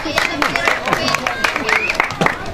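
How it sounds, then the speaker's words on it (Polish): Scattered hand clapping from a small outdoor crowd at a village community integration picnic, greeting the second-place team, with uneven claps close by and a voice talking over them. "O, brawa,"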